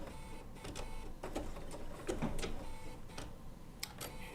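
Bernina B790 PRO sewing machine stitching wool appliqué with an open-toe foot, a quiet steady mechanical whir with faint ticking needle strokes, close and alone.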